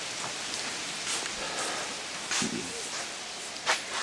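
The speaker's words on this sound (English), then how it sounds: "so I'm talking about the rain" Steady rain falls outdoors, a continuous broadband hiss of drops on surfaces, with a few brief louder patters and rustles breaking through; no talking.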